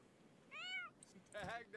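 A cat in The Sims 4 gives two short, clear meows about a second apart, fairly faint and close, with a quiet voice in the background.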